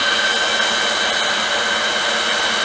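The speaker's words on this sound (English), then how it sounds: "Fire up my drill." A loud, steady high-pitched whine of an electric drill powering a bench can seamer, sealing home-brew beer cans, runs continuously and close by, with no speech.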